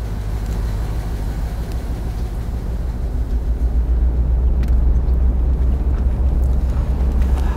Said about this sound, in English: I'll pop it into drive and away we'll go.